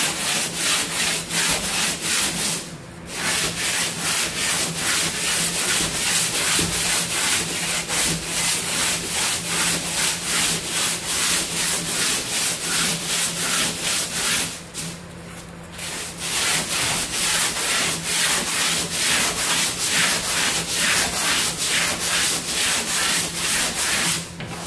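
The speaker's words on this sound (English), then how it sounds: "a component of your sanding is going over the top of the radius, and that's knocking down the chamfers." A sanding block rubbing back and forth over wooden boat parts while building a Core Sound 15, smoothing a radius and its chamfers: steady rhythmic scratchy strokes, close and loud, with two short pauses and no talking.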